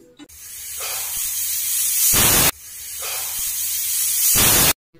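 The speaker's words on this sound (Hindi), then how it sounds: "कुकर में ढक्कन लगा देंगे, दो सीटी लगने तक इसे कुक कर लेंगे।" A pressure cooker whistling while cooking amla in half a cup of water, two loud sustained hissing bursts, each building and then cutting off sharply, close and alone.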